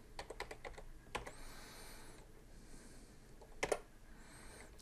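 Quick bursts of key taps on a computer keyboard while entering a login password on a Raspberry Pi, a short cluster of clicks, a pause, then a final louder flurry, quiet and close.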